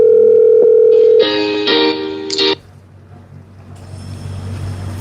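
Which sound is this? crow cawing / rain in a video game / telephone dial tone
telephone dial tone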